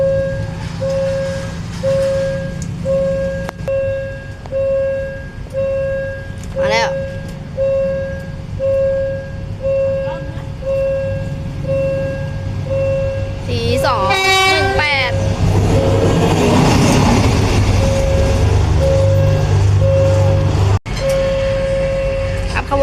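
A Thai train horn sounds with a steady tone and brief higher toots as the train passes, over a rumbling engine and rail noise; voices talk throughout.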